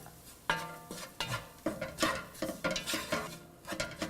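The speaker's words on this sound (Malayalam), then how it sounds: "മഞ്ഞൾപ്പൊടി, Kashmiri red chilli powder, cumin powder, garam masala എന്നിവ ഇട്ട് ഇതിൻ്റെ പച്ചമണം മാറുന്നത് വരെ വഴറ്റുക" Turmeric, Kashmiri chilli powder, cumin powder and garam masala being sautéed in a pan for chicken tikka masala, heard as repeated scraping and clinking strokes of a spoon against the pan, close and fairly quiet, with only a faint sizzle.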